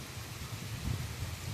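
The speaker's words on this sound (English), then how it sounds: "It is raining" Heavy rain pours during a Texas thunderstorm, a steady broad rushing wash with a low rumbling undertone, no voices.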